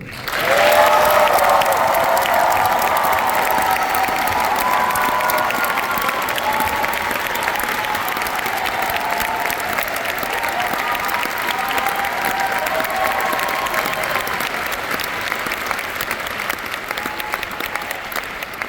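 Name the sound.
concert audience applause and cheering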